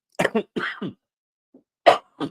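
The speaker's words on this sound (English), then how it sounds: "Getting over my cough" A few short, sharp coughs come in two clusters separated by a brief silence, close and fairly loud.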